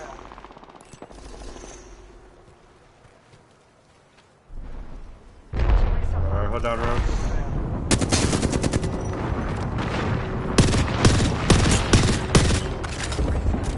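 Another team exchanging gunfire in a battle royale video game. After a quiet start, loud sustained automatic fire and rapid shot bursts run continuously for the second half.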